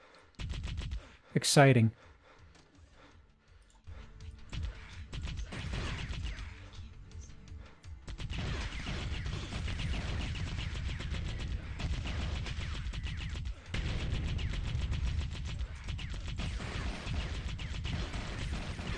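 A super gun in the FMV game Hardline fires in sustained rapid bursts, a dense continuous gunfire roar running for many seconds after a brief voiced whoop and a short spoken word near the start.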